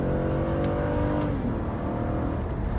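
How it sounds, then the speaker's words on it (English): Acura TL V6 engine revving, a loud close throaty drone that climbs in pitch and then eases back. "It sounds better than the TSX did because that V6 just has a little bit more throat to it."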